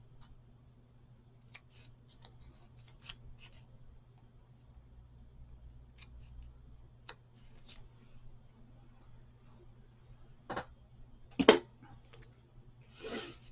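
Scissors snip excess material during papercraft, with scattered quiet clicks and cuts spread across a near-silent background and a brief louder snip cluster near the end.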